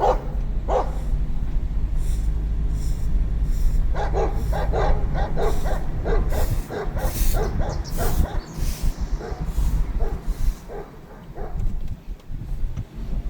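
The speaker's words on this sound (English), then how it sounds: "The doggies are going crazy." Several dogs in a suburban Pretoria neighbourhood bark excitedly, repeated sharp barks and yips at a moderate distance over a steady background rumble, continuing in quick bursts throughout.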